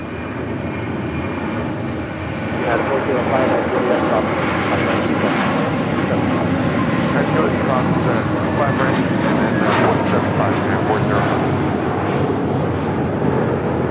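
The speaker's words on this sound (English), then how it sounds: "Got that JetBlue A321 now rolling down at 25 right." A JetBlue Airbus A321 jet roars loudly and steadily as it takes off down runway 25R at LAX, its broad engine noise holding near and constant throughout, with a voice talking over it.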